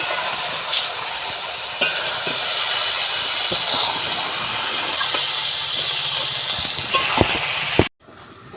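Stirring a cabbage and chicken skin curry in a pot on the stove: a steady steamy hiss and simmer with scattered spoon clinks and scrapes, ending abruptly.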